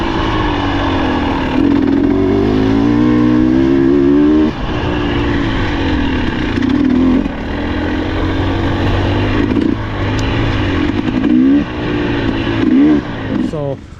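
A Husqvarna TE 300 two-stroke dirt bike on a trail ride revs and drops repeatedly, its buzzy engine note climbing and falling with throttle changes, loud and close with a few brief breaks.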